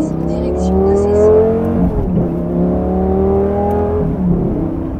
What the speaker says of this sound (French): Les premières petites accélérations. Ah, le son d'échappement, j'adore.